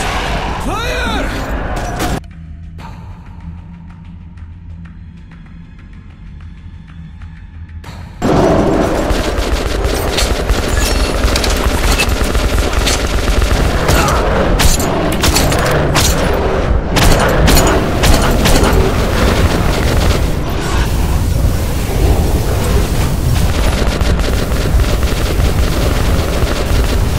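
Rapid gunfire in Metro 2033 Redux, dense bursts and booming shots filling most of the stretch after a quieter opening, with voices shouting amid the loud, continuous shooting.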